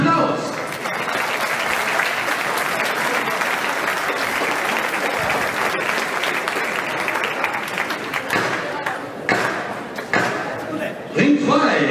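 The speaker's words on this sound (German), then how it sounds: "Christian, dein Applaus!" Loud, sustained applause from a large crowd at a boxing event in Niederrheinhalle Wesel, continuous throughout with scattered voices and shouts mixed in.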